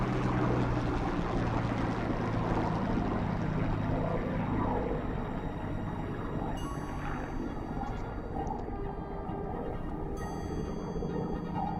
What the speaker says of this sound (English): Let's listen to LF363's Merlin engine.